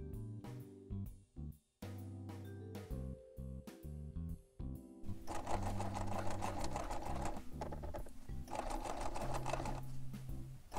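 A sewing machine stitches close to the edge of fabric for a cosplay bound edge, first in short start-stop bursts, then in a long continuous run of rapid mechanical whirring, close and clear with no talking.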